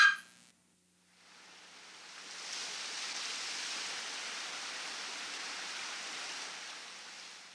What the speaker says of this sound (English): appreciate the serenity of a New England babbling brook